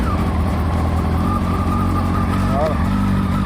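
A Kawasaki ZX12R motorcycle engine from 2000 fires up and settles into a loud, steady idle with a deep rumbling drone and a brief blip in revs near the end.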